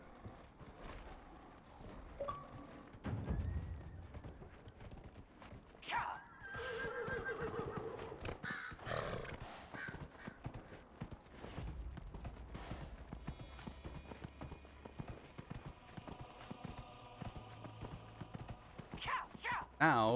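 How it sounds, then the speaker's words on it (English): A horse whinnies a few times among clopping hooves, with scattered game sound effects and a voice speaking intermittently over it. "A horse."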